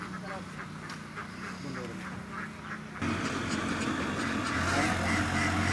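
Farm ducks quack repeatedly as they are let out toward a pond, the calls clear at first, then partly masked by a louder engine-like drone and background noise.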